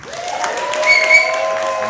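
Applause and crowd noise fill a comedy benefit and fundraiser, brief and continuous, with a tonal whine running over the steady clapping.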